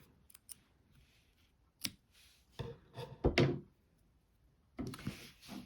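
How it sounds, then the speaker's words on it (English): Scissors snipping a pink yarn tail on a crocheted amigurumi piece, a few quiet close clicks and snips separated by pauses with soft handling noise. "so I can now just snip this"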